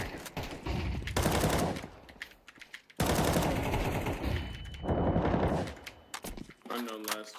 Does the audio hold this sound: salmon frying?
no